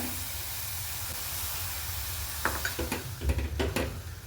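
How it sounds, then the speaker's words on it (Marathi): A spoon stirs a thickening khoa and sugar mixture for kesar khava modak in a hot pan, with a low steady sizzle followed by a few distinct scraping strokes near the end. "हे सर्व आपल्याला छान असं घट्ट होईपर्यंत हे मिश्रण परतून घ्यायचं आहे"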